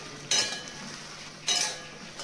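Spices are stirred in a cooking pan just after cumin goes in: two scraping utensil strokes against the metal, roughly a second apart, over a soft continuous frying hiss.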